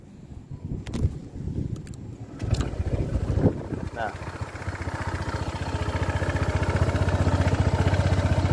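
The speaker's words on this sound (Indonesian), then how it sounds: "suaranya ini emang agak kasar yang 160 cc ya" A 2022 Honda PCX 160 scooter with a rough-sounding 160 cc engine starts up and settles into a close, loud, steady idle with a rhythmic low putter, with a voice talking briefly before it.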